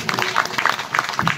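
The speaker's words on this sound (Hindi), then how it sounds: "ताली बजाओ जरा भाई जी।" Audience at a religious discourse claps together in a brief burst of applause, a steady patter of hands through the whole moment, moderately close, with a voice faintly present beneath.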